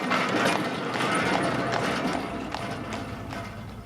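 Hooves of a Shire horse clip-clop steadily as it pulls a horse tram along rails over soft ground between the tracks, close and continuous with a faint mechanical rattle behind.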